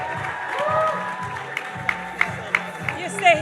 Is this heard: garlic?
no